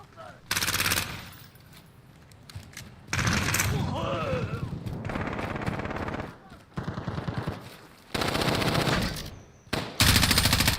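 Repeated bursts of rapid automatic gunfire from Call of Duty Modern Warfare, loud and close, alternating with quieter gaps where in-game voices speak.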